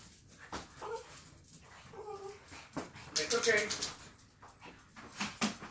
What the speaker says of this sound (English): I need to let this little dog out because he's going to start like crying.